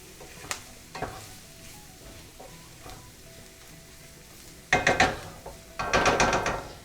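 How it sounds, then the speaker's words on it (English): Flour toasting in a pan for a mushroom stroganoff, stirred with a utensil that makes soft scraping and clicking against the pan over a quiet sizzle, ending in a few louder bursts of rapid scraping. "let's give that a little stir. Our flour is starting to toast a little bit"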